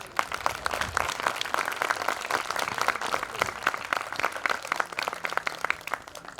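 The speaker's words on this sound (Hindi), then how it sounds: "ताली भी ठीक से नहीं बजाते।" Audience at a spiritual camp session in Palitana clapping, a steady patter of many hands heard from a moderate distance, fairly faint and continuous.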